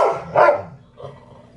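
A dog barks twice up close, two sharp loud barks followed by a softer third bark, then quiet.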